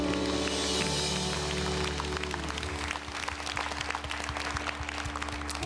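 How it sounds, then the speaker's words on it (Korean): Congregation clapping in thanks during a church worship service, a sustained spread of applause mixed with lingering music and room noise that runs throughout. "다시 한번 주님께 감사의 박수를."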